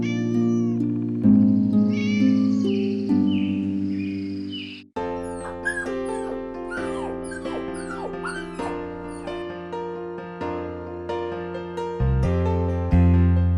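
A cartoon kitten meows repeatedly in a high, close, tonal voice, with short calls and longer drawn-out mews, mixed with a puppy's whimpers and yips in a kids' animated story.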